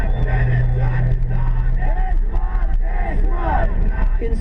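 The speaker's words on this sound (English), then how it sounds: "he drew enthusiastic crowds who chant unswerving support" An enthusiastic rally crowd in Swat Valley chants for a cricket star turned politician. The dense mass of voices rises into rhythmic shouts and cheers, loud and close, with a low hum in the opening seconds.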